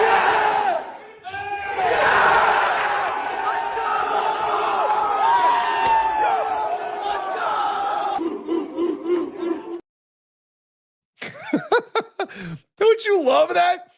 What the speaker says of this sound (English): You have like a game atmosphere in the crowd at a spelling bee.